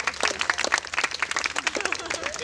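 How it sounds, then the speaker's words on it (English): Wedding guests clap together in a short burst of scattered applause under and between speech, with a lively crowd murmur close by. "give yourselves a round of applause."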